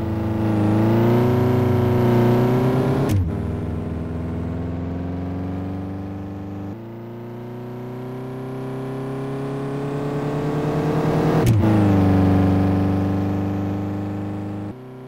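Race car on a track taking the hammerhead turn, its engine droning with harmonic whine that shifts as it brakes and turns, with two sharp transients around the gearchanges; loud and close, no talk.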